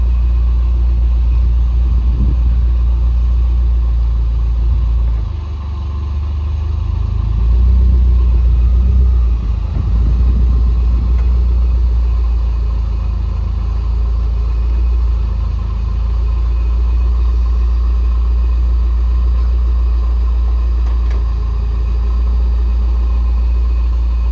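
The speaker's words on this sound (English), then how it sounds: "car just rocked up" A car rolls up nearby with a low, steady engine rumble that rises briefly and then settles into idling, continuous and moderately loud, no talking.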